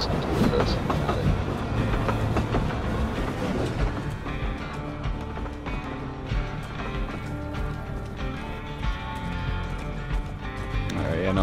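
A train running on a railway in the Evil West cinematic, a steady rumbling, rattling roll carrying on at an even loudness throughout, with dense layered game sound over it.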